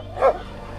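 Dogs at a village gathering give a single short bark or yip, fairly close, heard alone over a low background hum.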